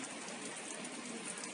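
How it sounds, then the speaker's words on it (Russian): Rain falling at a zoo, a steady faint hiss of drizzle pattering on surfaces, even and unbroken, with no voices. "О, дождик только усилился"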